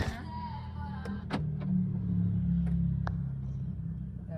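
A BYD Seal 5 DM-i hybrid car creeps through heavy city traffic on Buendia, with a low steady road rumble inside the cabin and a few faint clicks and knocks, no talking.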